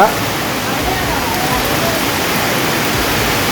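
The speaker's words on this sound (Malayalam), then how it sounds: "മുടിഞ്ഞ മഴ" Heavy monsoon-style rain falls continuously on Onam day, a thick, even wash of hissing downpour close by from start to finish.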